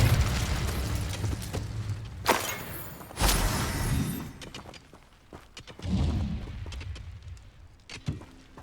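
Confringo and Incendio spell blasts in Hogwarts Legacy burst out as crackling explosive bangs and shattering impacts, two strong blasts early on and smaller pops afterward, with busy combat noise throughout.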